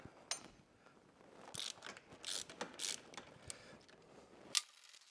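A hand wrench turns bolts on a Honda TransAlp motorcycle mounting bracket, producing quiet, close, irregular ratcheting clicks and metallic ticks in short clusters.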